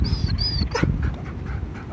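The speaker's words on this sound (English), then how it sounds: "An off-leash dog." An off-leash dog lets out a couple of thin, high whines up front, then falls quieter amid outdoor background noise.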